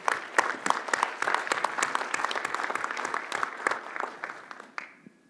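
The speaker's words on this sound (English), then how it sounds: "can we just give them one more round of applause" An audience at a regional planning board retreat breaks into a dense burst of applause lasting about five seconds, then cuts off sharply.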